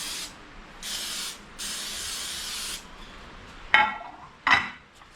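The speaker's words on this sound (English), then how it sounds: "There you a little spray." Cooking spray from an aerosol can misted into a baking pan, two short hissing bursts followed by a couple of sharp metallic clinks from the pan, close and clear with no talk.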